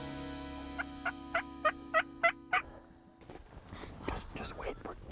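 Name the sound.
Wild turkeys gobbling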